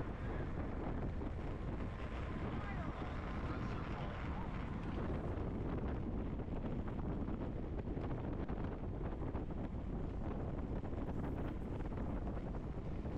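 Gusting wind buffets the microphone throughout a bicycle race, a loud, constant low roar and rumble that stays heavy from start to finish with no clear pauses.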